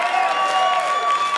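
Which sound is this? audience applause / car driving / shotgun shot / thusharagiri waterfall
audience applause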